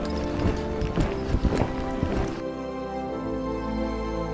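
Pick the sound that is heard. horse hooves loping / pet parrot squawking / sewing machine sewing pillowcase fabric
horse hooves loping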